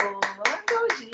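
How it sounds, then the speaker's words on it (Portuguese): An audience claps after a dance-in-school-education seminar talk, the claps coming as a quick run of sharp, evenly spaced hits with voices mixed in. "Aplaudir, né, gente?"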